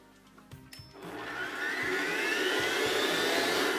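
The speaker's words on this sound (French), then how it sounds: "Donc on va mettre nos blancs dans le batteur." A stand mixer starts whipping egg whites for chocolate macarons, a few knocks and clicks giving way to a rising, steady whirring motor that stays loud and close, with no talk.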